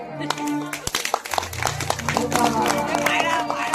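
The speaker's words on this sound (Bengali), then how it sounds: "এইভাবে যারা যারা জেগে থাকবে তারা তারা করতালি দাও দেখবে" An audience at a kirtan performance breaks into a burst of hand clapping. Uneven claps start sparsely and grow into a dense patter, mixed with voices and sustained musical tones.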